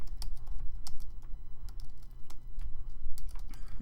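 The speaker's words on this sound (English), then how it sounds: "let me just type it in real quick" Rapid typing on a computer keyboard, with irregular clusters of crisp key clicks, close up and without speech.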